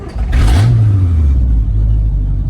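A truck engine idles loudly and close, revving briefly so its deep rumble rises and then settles back to a steady low drone, with no talking.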